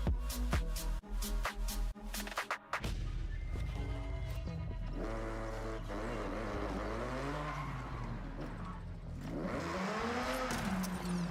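A Mazda RX-7 rotary engine revs and drives in the Forza Horizon 6 racing game, the note rising and falling through gear changes with tire squeal and skidding; it stays loud and close, with no talk.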